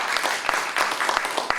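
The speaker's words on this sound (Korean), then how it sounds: "우리 청년들에서 여러분 모두가 우리 격려의 박수를 한번 해주시겠습니다" Brief, lively clapping from a church congregation during a Sunday afternoon praise service, a close burst of many hands with a few sharper individual claps standing out.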